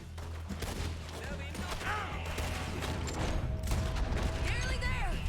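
Gunfire in Red Dead Redemption 2 crackles through a dense, busy game mix, with scattered shots and mechanical clatter over a steady low rumble for about five seconds, no clear voice on top.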